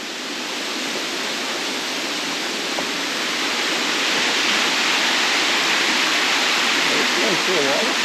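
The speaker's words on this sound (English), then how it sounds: "A waterfall." Rattlesnake Falls, a waterfall in State Game Lands 221, roars as a steady, loud broadband rush of falling water that fills the whole clip, with faint voices briefly audible near the end.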